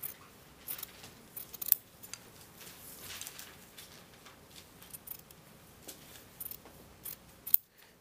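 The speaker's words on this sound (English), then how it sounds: "I'm grading the under collar. It's a lot of trimming on the jacket." Fabric scissors snip repeatedly while trimming and grading the under collar of a tailored jacket lapel, quick close crisp cuts in irregular bursts with small handling clatter between them, no speech.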